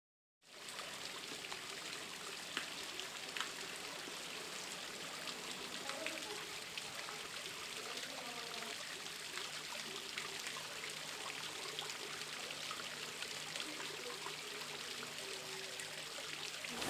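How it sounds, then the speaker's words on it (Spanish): Waterfalls on the Güetnar river make a steady, even rush of falling and splashing water that runs unbroken from start to finish at a moderate distance, with no clear voices. "Estamos en las cascadas del río Güetnar"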